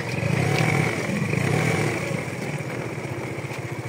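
A motorcycle engine idling beside a rice field while being parked, a steady low throbbing putter with a slight sputter, close and fairly quiet, no talking over it.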